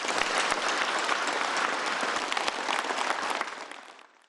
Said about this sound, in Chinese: 表决通过后，全场响起长时间热烈掌声